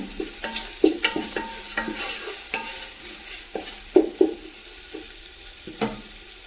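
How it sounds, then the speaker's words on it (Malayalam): Crushed ginger, green chili and garlic sizzle in a pan while a spoon stirs them, making a soft steady hiss punctuated by close, uneven scrapes and clinks. "ഇഞ്ചി പച്ചമുളക് വെളുത്തുള്ളി കേട്ടോ അതൊന്ന് ചതച്ചത് ഇതിൽ ഇട്ട് കൊടുത്തേക്കണേ"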